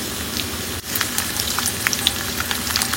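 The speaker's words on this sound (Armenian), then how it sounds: "չիրն ու չամիչը ճիշտ է ավելացնել լավ տաքացած բուսայուղի կամ" Dried fruit and raisins crackle and spit in well-heated vegetable oil or butter for an Easter raisin pilaf, a busy close sizzle with scattered sharp pops after a brief dip near the start.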